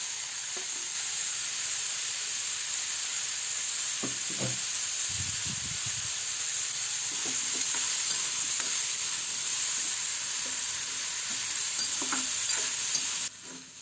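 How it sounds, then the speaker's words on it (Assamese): Soybean chunks fry in hot oil in a pan with a continuous bright sizzle, while a spatula scrapes and stirs through them in scattered knocks and scrapes, with no talking. "ইয়াৰ পাছত চয়াবিনখিনি মই ভাজি ল'ম।"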